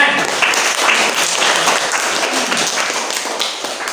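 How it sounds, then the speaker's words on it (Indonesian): A classroom of students claps for a group's presentation, a dense, even burst of close applause lasting a few seconds and slowly tapering off. "Ya, kasih tepuk tangan."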